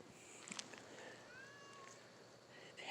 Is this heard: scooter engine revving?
no